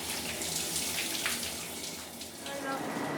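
Shower water running in an airport lounge shower, a steady close hiss of spray with faint splashing variations throughout.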